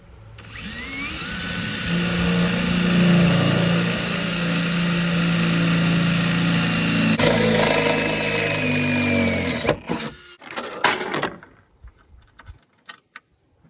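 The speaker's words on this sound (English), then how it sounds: "So we're gonna drill a hole about right here for our chain." A power drill whines steadily for several seconds, boring a hole through a minivan converted into a pickup to hold a tailgate chain, loud and close, then stops and leaves brief clattering handling noises.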